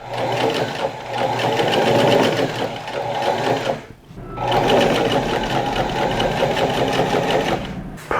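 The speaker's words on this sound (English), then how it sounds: "I'm just gonna stitch right on the inside of that crease." A sewing machine stitches a seam in shirt fabric cut from a bed sheet, running in two fast, steady bursts close by with a short pause between them.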